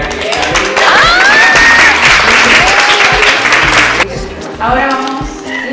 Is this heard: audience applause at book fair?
yes